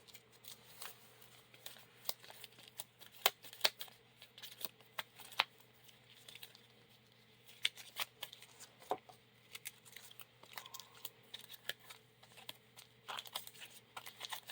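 Faint, close clicks and riffles of Lord of the Rings card game cards being shuffled, scattered snaps over a low steady background hum.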